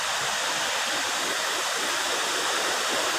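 The powerful Kupari Shua Sari waterfall roaring up close, a thick unbroken rush of falling water with no other sounds.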